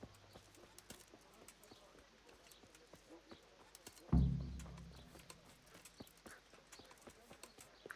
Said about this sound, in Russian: Конь, блин.